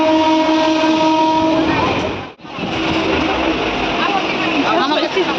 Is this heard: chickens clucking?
no